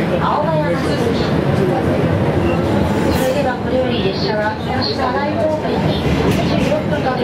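Inside a Sendai Subway Tozai Line train during a 2015 pre-opening public test ride, a loud, continuous rumble of the car running along the track, with a voice speaking over it.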